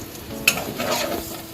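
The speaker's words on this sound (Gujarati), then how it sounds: "હવે મિક્સ કરી લઈશું." Potatoes are stirred with spices such as mango powder, coriander-cumin powder and turmeric in a pan, a short close scrape with soft sizzling and one sharp clink of the utensil.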